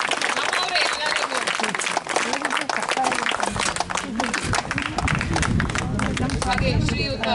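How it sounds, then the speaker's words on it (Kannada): An audience at a welcome ceremony claps continuously as a guest is called to the stage, dense applause running throughout with people talking over it. "ಚಪ್ಪಾಳೆಗಳು ಸ್ವಲ್ಪ ಜೋರಾಗಿ ಬರಲಿ"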